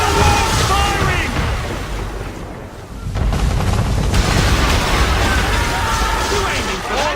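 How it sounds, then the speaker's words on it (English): Warship cannons boom in Assassin's Creed III as a man-of-war opens fire during a naval battle, heavy rolling blasts and crashes filling the scene under shouted dialogue, with a brief lull before the barrage resumes. "Man of war's firing!"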